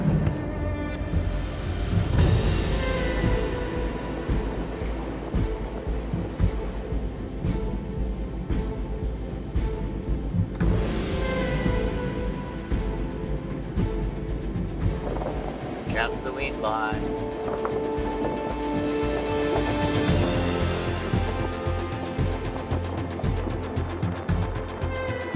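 A sailing boat under way at sea after squally, gusty weather has passed, its engine running steadily with wind and water rushing past in a loud, continuous wash throughout.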